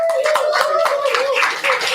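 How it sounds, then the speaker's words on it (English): Brief burst of close, loud audience clapping at a Rotary district conference, individual claps distinct in quick irregular rhythm, with a tonal hum beneath. "One more round of applause for Jason."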